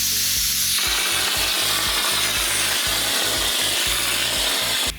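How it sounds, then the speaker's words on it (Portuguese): An air compressor spray gun, air valve fully open, sprays a fine coating over a wall: a loud, continuous hiss with a rhythmic pulsing throb underneath, close by and without talk. "Então é com o ar do compressor todo aberto e a gente iria pulverizar uma parte bem fininha em toda a parede"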